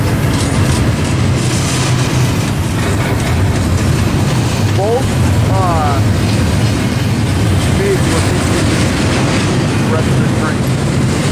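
BNSF and UP freight trains pass on the Tehachapi line with a loud, sustained roar and steady clickety-clack of wagons over the rails, close by, while onlookers talk briefly over the noise.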